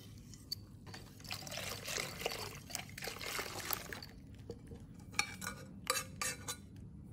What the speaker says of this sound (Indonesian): Aduk-aduk sampai gulanya larut dan tidak berindil-berindil.